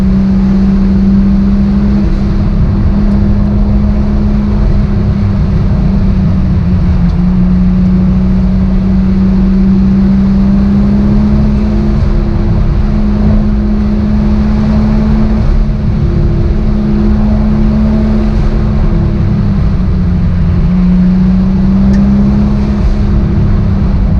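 A Toyota Supra with an HKS Hipermax S suspension drives a winding mountain touge road, its engine droning steadily at a constant pitch with loud road and wind noise filling the cabin throughout.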